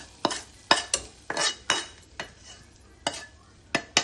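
Spices for a dal tempering sizzle in a pan while a spoon scrapes and stirs them in quick, separate strokes, close and fairly quiet, with no talking.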